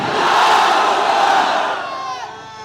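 A large crowd at a political rally roars the Nara-e-Takbir slogan in unison, a loud, dense, sustained wall of massed voices that swells for about a second and a half and then tapers off.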